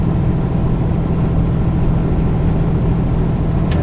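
A semi truck's engine pulls hard as it accelerates past a motorhome on a Wyoming highway, a loud, steady, low rumble heard close inside the cab throughout.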